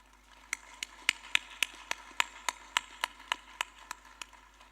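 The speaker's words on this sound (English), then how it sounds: "I would appreciate if we give him personally a round of applause." Sparse, distinct handclaps at an infrastructure development forum in a Nairobi convention hall, around fifteen evenly spaced claps from what sounds like only one or a few people, crisp and fairly quiet over a low steady hum.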